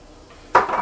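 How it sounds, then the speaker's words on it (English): Butter drops into a hot frying pan and starts to sizzle abruptly, a short bright hiss that swells after a faint metallic clink, close and alone. "Take some of our butter, put it in our pan."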